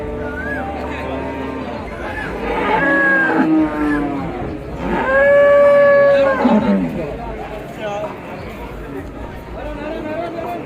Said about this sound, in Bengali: এই যে মিনি জার্সি গরু।